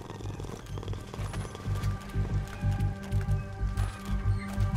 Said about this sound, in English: Is there a cat here?